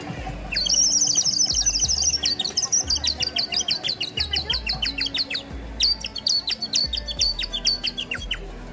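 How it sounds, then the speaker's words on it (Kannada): A warbling ceramic water bird whistle trills in rapid bird-like chirps, bursts of bubbling tweets repeating steadily and fairly loud, at an agricultural fair. "ಈ ಥರ ಬ್ಲೋ ಮಾಡಿದ್ರೆ ಬರ್ಡ್ ವಿಸಲ್ ಸೌಂಡ್ ಬರುತ್ತೆ"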